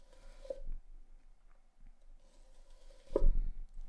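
Handmade Fredrik Spåre Lindbacka gyuto knife chopping through an onion on a cutting board, two distinct crisp chops about two and a half seconds apart with quiet slicing texture between, close and clear.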